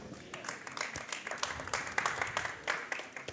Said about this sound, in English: That deserved a golf clap.